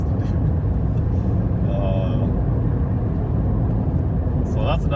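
A 2016 Toyota Corolla is being driven. Inside the cabin, a steady low rumble of road and engine noise holds evenly throughout, with no exhaust note, and a voice cuts in briefly a couple of times.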